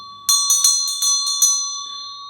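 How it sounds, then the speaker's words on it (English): A meditation bell is struck in a quick series of about six bright, metallic strikes, each ringing over a sustained humming tone that lingers and fades after the last hit. "I remember when I first rang the bell,"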